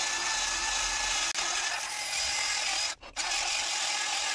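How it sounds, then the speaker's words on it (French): Sanding of front brake parts on a 2008 Opel Astra D 1.3 diesel before the wheel rim goes back on: a steady, close abrasive rasp running throughout, with two brief pauses. "moi j'aime bien poncer ces parties-là"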